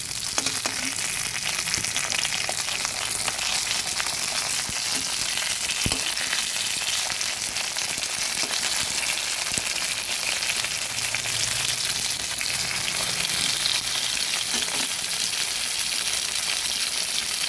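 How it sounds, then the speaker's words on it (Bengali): Fish sizzle steadily in hot oil in a pan for a Bengali fish curry with winter vegetables, a continuous close crackle with occasional sharper pops and utensil taps as pieces are lifted out, no speech. "মাছগুলো ভেজে নিয়েছি এবার তুলে নিচ্ছি"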